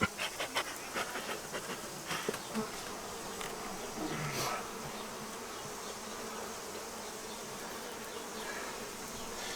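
Honeybees buzz in a dense, steady drone while two hives are merged outdoors, with a few louder passes from individual bees close by early on.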